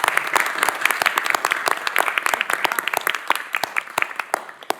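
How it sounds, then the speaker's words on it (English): A crowd at a commission meeting applauding steadily, dense clapping that thins out toward the end. "Commissioner Durrett and Commissioner Jay a round of applause."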